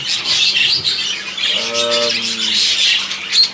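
Budgerigars from a show-breeding aviary squawking and chattering in a busy flock, with a loud harmonic call near the middle standing out over continuous high chirping.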